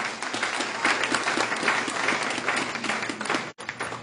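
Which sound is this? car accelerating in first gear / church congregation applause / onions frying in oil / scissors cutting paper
church congregation applause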